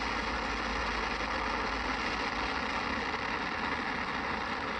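SpaceX Falcon 9 rocket engines just after liftoff on the COSMO-SkyMed Second Generation FM2 launch make a dense, unbroken roar that holds steady and loud from start to finish.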